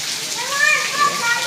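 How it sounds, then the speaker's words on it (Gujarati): Continuous patter and hiss of rain during a thunderstorm shower, steady throughout, with children's voices and talk over it. "ગાજવીજ સાથે વરસાદ આવ્યો માત્ર."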